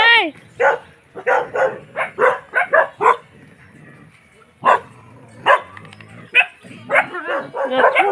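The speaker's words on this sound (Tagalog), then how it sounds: "Naku, ang dami nilang aso." Several dogs bark in short bursts at a rural Zambales home, yips and woofs scattered across the span with pauses between, fairly close, with a person speaking among them.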